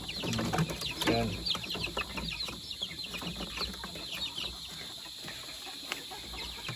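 Gamefowl chicks, including Boston Roundhead and yellow-legged hatch, cluck and peep in short scattered calls throughout, fairly close, over steady background hiss with a few faint voices.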